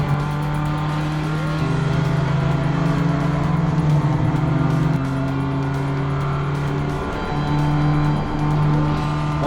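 Porsche 944 race cars at high speed on the Phillip Island Grand Prix circuit, two engines droning loudly side by side with steady high revs and shifting pitch as they run down the long straight into a turn.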